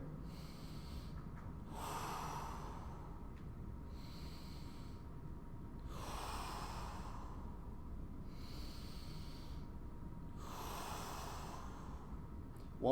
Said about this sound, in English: Just take a few more deep breaths here.